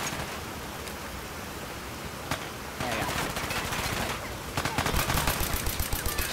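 Rapid automatic gunfire in Fallout 4, bursts of shots growing denser and louder toward the end, with a few isolated cracks earlier over a steady noisy background.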